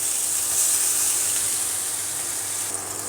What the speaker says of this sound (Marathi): थोडं पाणी शिंपडते